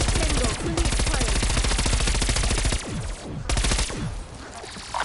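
Sustained, rapid automatic gunfire from a video game battle, loud and close, with brief pauses between long bursts and a fainter tail near the end.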